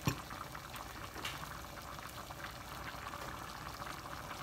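Rice and peas bubbling in a pot as the water boils off, a soft, steady simmering hiss that is quiet and close, with no talking.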